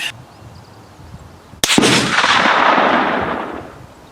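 A single loud rifle shot from a Lencac SC 1903A4 at an outdoor range cracks sharply, then rolls away in a long, fading echo with no talk.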